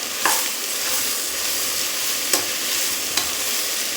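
Large sliced mushrooms frying in a pan make a steady hiss. A spoon scrapes and stirs through them now and then, close and clear, and no one speaks.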